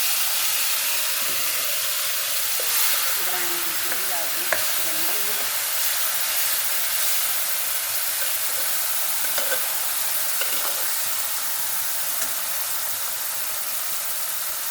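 Stuffed tinda gourd fries in a pan with ground chili and cumin, a constant close hiss and sizzle with faint stirring scrapes, moderately loud and steady throughout, with no talking.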